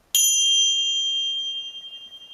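A single bright chime strikes once and rings out clearly, its pure tone slowly fading with a gentle shimmer.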